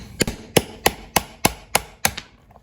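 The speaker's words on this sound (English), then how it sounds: "I can move my block and usually set it up and just finish driving that pin out" Hammer blows on a steel punch driving a rusty throttle pin out of a Stihl MS-311 chainsaw: seven sharp, evenly spaced metallic strikes in close succession, loud and near, with no talk.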